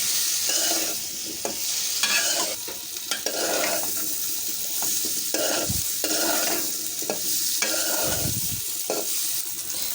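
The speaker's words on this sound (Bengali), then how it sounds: "এখন ভালো করে এগুলো ভেজে নেব।" Boiled potatoes and cauliflower fry steadily in a pan for pulao, a continuous close sizzle with repeated stirring scrapes throughout, no talk.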